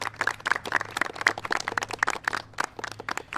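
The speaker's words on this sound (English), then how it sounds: "A round of applause for them." Audience applause at a presidential event on hurricane response in New York, honoring the congressional delegation: dense, steady clapping from a crowd sustained throughout, fairly distant and even, with no speech over it.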